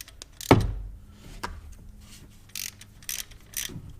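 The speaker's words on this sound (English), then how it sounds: "I've got a 13mm socket, a long extension, and I'm just going to take those 3 nuts off there." A ratchet with a 13mm socket on a long extension works lock nuts off an air filter bracket on a John Deere 1025R tractor, heard as a sharp knock then sparse short clicking bursts, fairly quiet.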